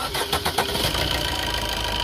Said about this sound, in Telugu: ఒకసారి మనం ఇంజిన్ స్టార్ట్ చేసి చూపిస్తాను, సౌండ్ కూడా ఎలా ఉంది ఏంటన్నది అయితే చూద్దాం